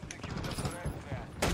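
Shotgun blasts from a video game fire in quick, sharp bursts, fairly loud, with a heavier blast at the end and game background noise beneath.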